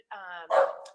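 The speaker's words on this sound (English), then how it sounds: "I'm sorry for my dogs barking" Dogs barking indoors, with a drawn-out yelp followed by a sharper bark, heard close and brief.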